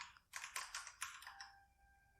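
Quick bursts of keystrokes on a computer keyboard while writing JavaScript loop code, a fast uneven run of close clicks that trails off into quiet, no voice present.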